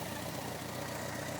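A BMW K1100 LT motorcycle idles just after start-up, running a little rough, a steady low engine drone with a faint uneven pulse, moderately quiet and close with no talk.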